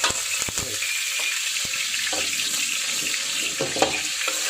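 Shallots fry in hot oil with a loud, steady hiss and crackle. A few soft clunks break the sizzle, heard up close.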